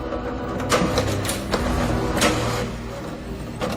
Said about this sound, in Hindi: प्रिंटर के चलने की आवाज तो हुई